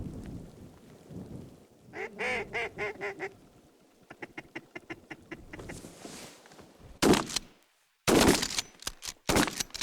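Ducks quack in bursts during a 1999 duck hunt, with repeated rhythmic calls at mid-distance, followed by two loud, sharp gunshot blasts near the end.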